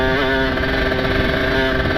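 A motorcycle with a ported engine and aftermarket exhaust runs loud and close, a steady buzzing engine note held at high revs with only slight wavering.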